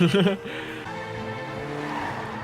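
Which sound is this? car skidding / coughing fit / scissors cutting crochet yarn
car skidding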